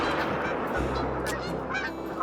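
Geese honk in a hunting scene from The Hunter: Call of the Wild, a flock's overlapping calls rising out of a dense, steady wash of outdoor ambience at moderate distance.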